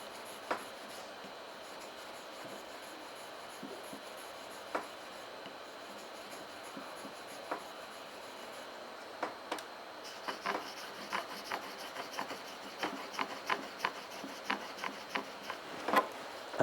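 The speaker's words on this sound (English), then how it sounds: "a final touch-up on the shiageto, the finishing stone" A steel blade being honed on a shiageto finishing stone, quiet scraping strokes at first and then a quicker run of short, crisp rasps near the end, with no one speaking.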